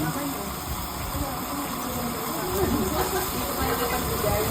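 Garlic sizzling in a hot pan during home cooking, where steak has just been pan-cooked; a steady broadband hiss holds throughout, with people talking faintly in the background.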